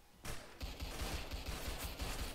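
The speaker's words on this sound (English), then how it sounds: "Nail gun." A nail gun in the video game Ragdoll Universe fires a rapid, continuous string of sharp shots, fairly loud and steady after a brief quiet start.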